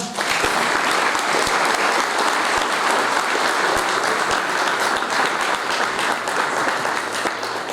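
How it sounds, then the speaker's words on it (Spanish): An audience at a talk at the 116th ExpoRural fair in Rafaela applauds a speaker with loud, steady clapping that holds evenly from start to finish, with no voices above it. "Aplauso para Facundo"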